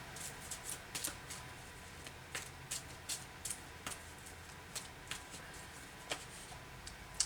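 Archangel oracle cards are shuffled and pulled in a quiet room, giving a run of soft, irregular flicks and slaps spread across several seconds. The sounds are faint and close, with no talk.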